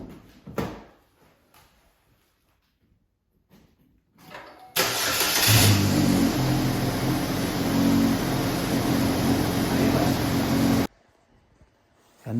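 A car engine cranks and fires up after its battery has been charged, then runs and revs loudly for about six seconds before cutting off, preceded by a few clunks and handling noises.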